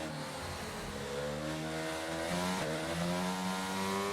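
Several F1 22 video game race car engines whine and rev together at the race start, a steady loud mechanical drone with pitches rising as the cars accelerate, no voices.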